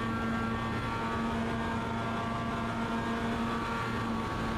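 A roadster race car engine drones steadily at high revs, a constant loud tonal hum with no speech and no clear shifts.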